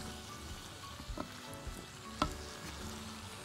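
Eggplant, beans, squash, carrot and zucchini frying for turli, a faint continuous sizzle with a few light knocks of stirring in the pan.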